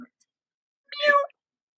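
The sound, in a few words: person imitating a cat meow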